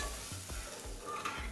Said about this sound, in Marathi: पाहू शकतो आपण पाण्याला उकळी आलेली आहे।